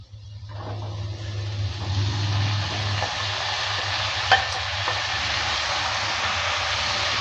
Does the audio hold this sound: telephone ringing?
no